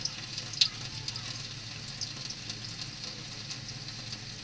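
Ghee goes into a pan of dried-out carrot halwa, giving a soft, steady low sizzle with a small clink near the start, close and quiet, with no one talking.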